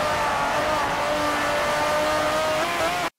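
A race car in Forza Motorsport 4 at the Nurburgring GP circuit, a loud continuous engine drone with pitch shifting as it brakes for a turn, faint tire noise underneath, ending abruptly.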